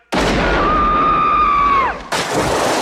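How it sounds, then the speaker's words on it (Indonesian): A loud gunshot in the film Death Becomes Her: a sudden blast with a long ringing tail and a high whine that bends downward before a cut to noisy ambience. "tanpa takut serta tidak mempunyai perasaan bersalah menembak Mbak Helen yang kemudian terlempar ke kolam renang tidak bernyawa"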